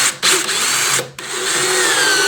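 A power drill driving screws whirs loudly in short bursts, stopping and restarting twice, with a steady high motor whine throughout.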